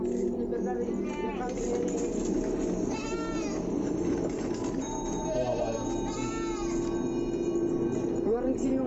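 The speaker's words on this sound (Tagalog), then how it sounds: "Nakita niyo yung mga kambing guys, takot na takot." Goats bleating repeatedly near a river, several wavering cries rising over steady rushing water and background noise, fairly close, with people talking.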